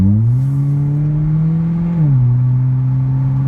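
2020 Hyundai Veloster 2.0 Premium with a muffler delete drones loudly from inside the car, its engine note rising slightly under acceleration, then dipping briefly at a shift and holding steady again, with no talking.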